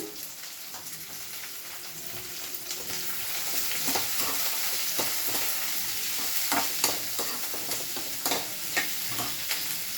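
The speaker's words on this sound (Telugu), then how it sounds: "ఇప్పుడు ఉల్లిపాయలు బాగా మగ్గనివ్వాలి" Onions frying and softening in a pan with salt and turmeric, a continuous close crackling sizzle that grows slightly louder, with intermittent spatula stirs.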